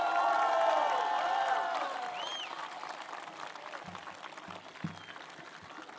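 A crowd at an outdoor political campaign rally for Nikol Pashinyan of the Civil Contract party applauds and cheers, a dense wash of clapping and whistles that gradually fades, with some voices and thumps toward the end.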